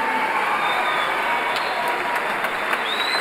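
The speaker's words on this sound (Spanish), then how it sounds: "Un fuerte aplauso para él." Soft, steady applause from a concert audience for a youth symphonic band director in Medellín, a distant wash of clapping with a few sharper claps standing out.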